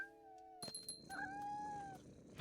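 A cat meows in the video game What Remains of Edith Finch: a long, clear, tonal meow, then a short clatter and a second drawn-out, rising-and-falling meow, close and distinct with no talk.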